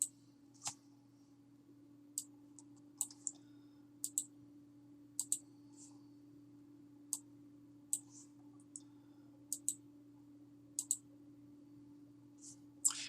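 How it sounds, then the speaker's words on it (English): A computer mouse clicks while a WordPress page is edited: sharp, quiet single and double clicks at irregular intervals over a steady low electrical hum, with no talk. "I'm just clicking on the little arrow right up here and selecting the headings I want."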